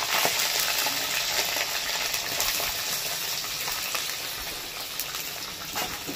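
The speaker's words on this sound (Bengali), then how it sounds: "পেঁয়াজটাকে প্রথমে ভেজে নেব।" Chopped onions fry in a pan, giving a loud, steady sizzle with fine crackling that runs without a break from start to finish.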